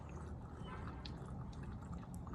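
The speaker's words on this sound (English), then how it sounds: "That is a lot of water. Then the oil come out." Water and oil drain and drip steadily from a blown engine with a failed head gasket, a faint continuous trickle with scattered drips and low background rumble.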